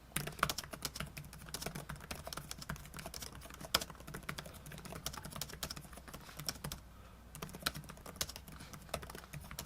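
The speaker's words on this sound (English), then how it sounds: "So here we go with the typing." Rapid, continuous typing on a Dell XPS 9550 laptop keyboard: light, crisp key clicks tap out in an irregular stream with a few sharper strokes, heard close and alone.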